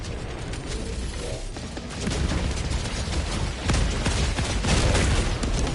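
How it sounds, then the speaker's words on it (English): Illuminate Stingray strafing run in Helldivers 2. Rumbling, crackling bursts of fire build and grow louder partway through, forming a dense, continuous barrage of booms and impacts without speech. "There's a Stingray inbound"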